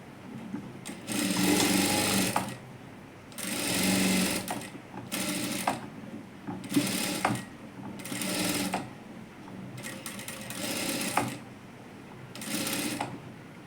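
A sewing machine stitches the lining of a princess blouse in bursts: about seven runs of rapid mechanical whirring, each a second or two long, separated by short pauses, close and clear with no talking.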